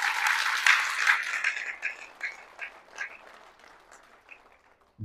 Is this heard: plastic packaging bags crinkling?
no